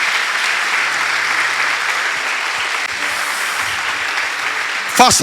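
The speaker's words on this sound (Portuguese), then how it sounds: "Você pode aplaudir Jesus? Por favor, faça." A church congregation applauds Jesus during a worship service, sustained dense clapping filling the room, with a voice rising over it right at the end.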